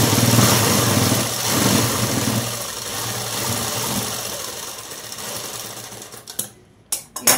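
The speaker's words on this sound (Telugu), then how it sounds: "లూజ్ కుట్టు పెట్టేసి జాయింట్ వేసుకుంటే సరిపోతుందండి" Sewing machine running steadily while stitching a joint on a long frock dress, a continuous close whirring hum that stops near the end, leaving a few brief clicks and handling knocks.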